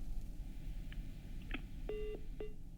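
Telephone line tones over a phone-in call on a medical advice broadcast as a caller from Bhagalpur disconnects: a few short faint beeps, then two steady pure tones cut into pulses, heard over a low noisy line hum.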